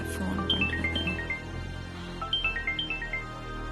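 A phone rings late at night in a Tamil TV drama scene, its melodic ringtone pattern repeating twice over a steady background.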